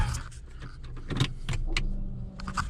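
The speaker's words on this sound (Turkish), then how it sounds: "Araba çalışıyor." A car's engine idles close by through a short stretch, with a whirring electric motor like a power window and brief clicks and rattles over the steady low hum.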